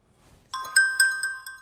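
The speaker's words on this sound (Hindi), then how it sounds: "तुम देख नहीं रहे मैं फोन मिला रहा हूं" A phone rings loudly and close during a call, a melodic electronic ringtone pulsing in quick repeated notes that each ring and decay, heard alone without speech.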